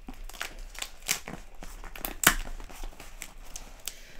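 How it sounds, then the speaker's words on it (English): Scissors snipping and tearing into a plastic package of pins, with irregular crinkling and crunching plastic close up, one louder sharp snip near the middle. "We have our trusty scissors here, so we're going to go ahead and carefully cut into this."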